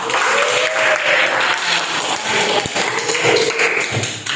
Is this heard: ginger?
no